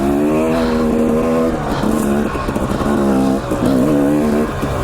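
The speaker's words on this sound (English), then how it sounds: "Luckily, I'm on my trusty Husqvarna 2-stroke," A Husqvarna two-stroke dirt bike engine revs hard on Idaho single track, a loud, close, buzzing drone rising and falling as the throttle opens and eases through the ride.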